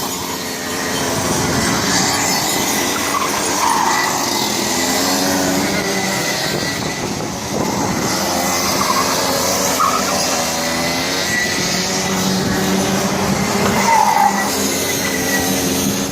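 Loud, continuous small-engine racing drone from go-karts on a go-kart track, with a steady whining roar and shifting pitch throughout, no talk.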